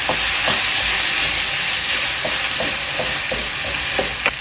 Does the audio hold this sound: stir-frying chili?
yes